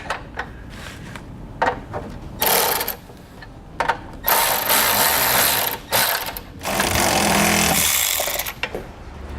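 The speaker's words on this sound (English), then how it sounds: "for our hardware attaching the brackets to the body, I'm going to be using a 7/16 socket and wrench" A 7/16 socket and wrench drive bracket bolts into the body of a 2018 Jeep JL in a garage, giving short bursts of rapid clicking and ratcheting separated by pauses, loud and close.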